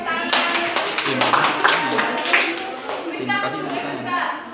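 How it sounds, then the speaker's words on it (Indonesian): At a school presentation, an audience claps steadily for several seconds in a dense patter of hands while a voice speaks over the applause. "terima kasih tepuk tangan"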